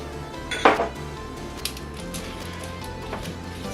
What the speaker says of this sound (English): Stir that around again.